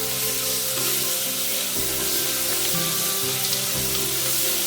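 Okra and chopped tomato sautéing in a pan give off a loud, continuous sizzle, with tonal background music running underneath the whole time.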